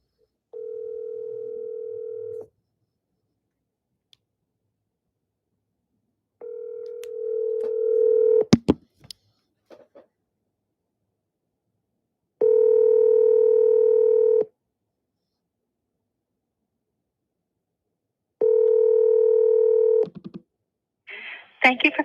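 A phone call to a realtor begins with a steady dial tone followed by a series of separate, evenly spaced loud tone bursts, clear and close with silent gaps between them.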